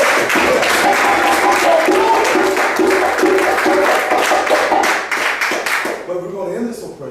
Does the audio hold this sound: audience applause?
yes